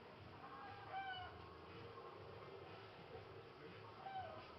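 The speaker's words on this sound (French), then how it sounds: "il y a une poule dehors, je sais pas, elle fait des bruits assez bizarres" Out in the countryside, a hen gives a few faint, distant, oddly pitched clucking calls against a steady low background hum, heard in short separate bursts.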